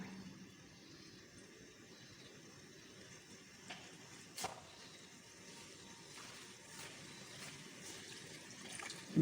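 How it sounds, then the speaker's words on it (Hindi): Water poured into a cooking pot while making aloo saag, a steady low splashing trickle running close and fairly quiet the whole time, with a couple of brief clinks partway through. "पानी डालूंगी"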